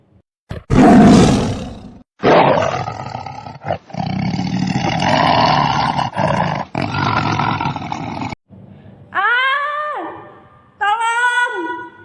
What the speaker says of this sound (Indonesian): Tolong! Ada harimau!